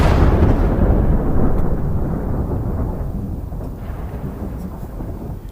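A thunderstorm effect for an audio drama set on a wild, stormy night: a loud thunderclap hits at once, then rolls into a deep rumble that slowly fades, with no voices over it.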